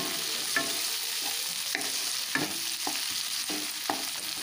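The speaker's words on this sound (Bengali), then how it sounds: "একসাথে পেঁয়াজ রসুন টমেটোটাকে ভেজে নিচ্ছি।" Onion, garlic and chopped tomato fry together in a pan, a continuous bright sizzle broken by repeated clinks and scrapes of a spatula stirring every half second or so.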